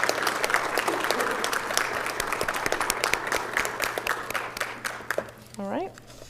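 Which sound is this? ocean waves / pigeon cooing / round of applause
round of applause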